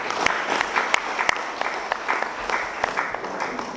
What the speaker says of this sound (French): à remercier par vos applaudissements